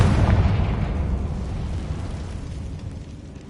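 A Confringo spell explosion in Hogwarts Legacy bursts with a loud, deep boom that decays gradually over a few seconds into a fading rumble.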